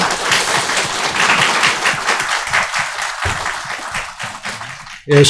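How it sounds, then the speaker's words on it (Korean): A church congregation at a Korean Presbyterian service claps loudly in a steady, dense burst for about five seconds, thinning near the end before a sharp louder sound at the close. "큰 박수로 안녕하겠습니다."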